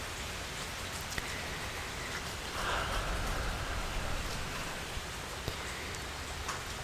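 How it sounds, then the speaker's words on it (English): Steady rain falls outdoors in a soft, continuous hiss of drops with no voices, swelling slightly midway through and staying even and close throughout. "it's just so nice, the sounds of nature, the rain"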